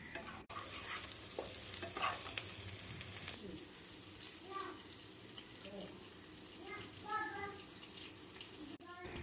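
Onions frying and being stirred in coconut oil in a pan, a steady close sizzle with scraping stir strokes throughout, faint background noise underneath.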